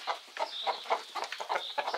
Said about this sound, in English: a lot of clucking